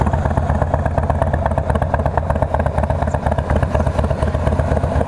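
A Harley-Davidson Road King Special motorcycle engine runs steadily and loudly up close, a dense continuous rumble with a lumpy pulsing throb throughout and no speech.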